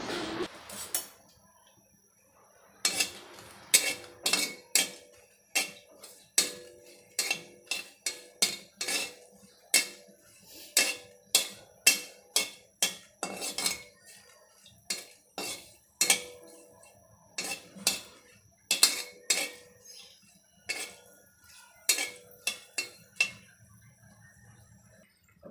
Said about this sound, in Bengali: শুকনো মরিচগুলোকে একটু ভালো করে ভেজে নিব